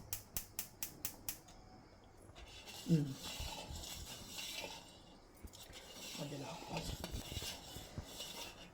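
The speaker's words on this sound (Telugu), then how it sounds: "ఇలా ఫ్లాట్గా ఉన్న స్పూన్ అయితే మంచిగా చక్కగా కలపడానికి ఈజీగా ఉంటుంది" A flat spoon stirs and scrapes inside a cooking pot, giving soft clinks and rubbing strokes at moderate level, with a few sharp taps at the start and some background noise.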